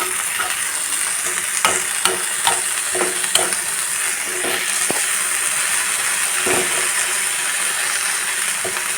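Cluster bean thoran with grated coconut stir-fried in a pan gives a continuous close sizzle, broken by repeated scraping and clicking stirring strokes, with no voices.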